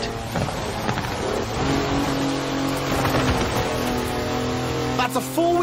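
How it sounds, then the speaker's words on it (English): A four-wheel drive car on mud tyres slides sideways in Forza Horizon 4, its engine revving hard and tyres squealing in a continuous loud run. "That's a four-wheel drive car on mud tyres completely sideways."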